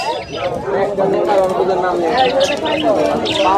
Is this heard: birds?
yes